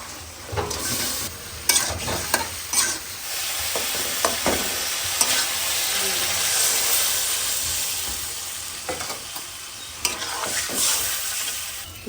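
Potatoes with chili powder and cumin powder frying in a pan give a steady loud sizzle and hiss, broken by repeated scraping stirs and clinks of a spoon against the pan.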